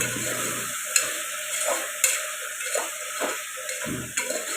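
Potato and pea curry fries in a pan with a continuous sizzle under sharp spoon scrapes and taps against the metal, a few distinct knocks spaced through, close and moderately loud.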